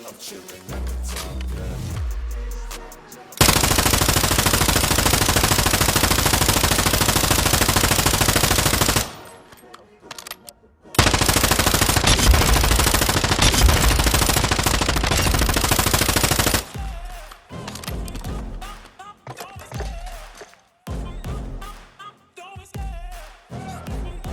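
A Rap H light machine gun in Warzone 2 rips out two long, loud, sustained bursts of automatic fire, each lasting several seconds, with shorter scattered shots before and after.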